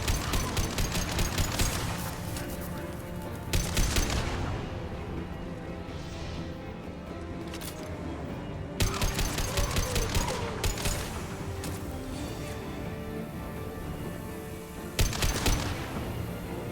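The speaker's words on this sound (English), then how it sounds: "Hostile fire. Taking cover." Sustained gunfire from a firefight in the video game Mass Effect 2, with rapid bursts and sharp cracks recurring in loud waves over a constant backdrop of game combat noise and music.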